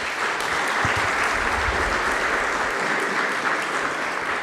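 Attendees at a Latin American forensic genetics congress applaud a speaker, a steady burst of many hands clapping at moderate volume in a conference room, continuous and even throughout.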